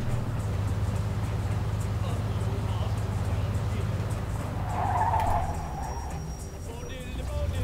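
Car in the video game Mafia 2 skidding as it pulls in to park, a continuous loud tire squeal over engine rumble that swells near the end, with someone talking over it.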